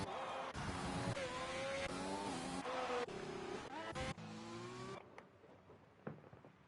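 A Formula 1 car engine from the F1 2020 racing game, Abu Dhabi round, screams loudly at high revs with rising and falling gear shifts, then cuts to a quieter, distant engine drone near the end.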